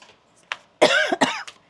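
A few hard coughs in close succession from a person, loud and close, with a fainter rasp leading in beforehand.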